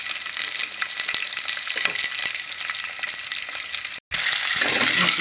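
Curry leaves frying in hot oil for a bottle gourd sambar, a steady loud crackling sizzle throughout with a brief drop to silence near the end before the frying resumes; no voices.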